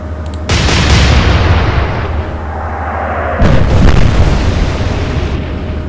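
Naval guns boom in the Atlantic Fleet video game, two heavy broadband blasts about three seconds apart, loud and close, each trailing into a rumbling roar with a falling whistle between them; no talk.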